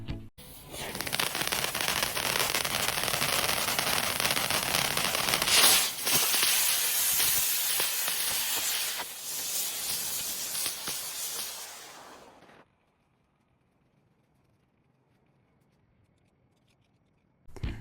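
A "Flower of Beauty" ground spinner firework with a gyroscope base hisses loudly and steadily for about twelve seconds while spinning, then cuts off abruptly into near silence.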